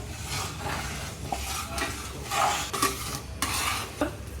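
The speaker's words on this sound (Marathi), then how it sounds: "आता आपण हे छानपैकी हलवून घेऊ, कारण की शिरा खाली लागायला नको." Semolina sheera being stirred in a pan after a litre of milk has gone in, a steady scraping swirl with faint sizzling bursts and light utensil clinks against the metal, no talking.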